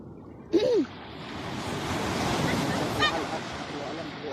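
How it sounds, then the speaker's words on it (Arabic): Sea waves wash onto the shore at Alexandria in a steady broad surf roar with wind across the microphone, and a brief voice-like honk sounds near the start. "صوت البحر ومنظره تحفه"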